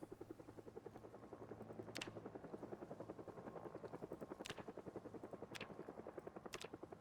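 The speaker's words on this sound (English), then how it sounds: "So the helicopter spawned in about here, more or less." Distant helicopter in a video game: a steady, faint rotor chop pulsing evenly throughout, broken by a few sharp clicks.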